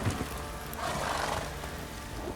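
A horse in the video game The Witcher 3 gives a loud, drawn-out neigh, with hoof clops and ambient game sounds around it.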